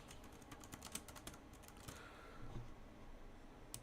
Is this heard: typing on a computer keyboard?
yes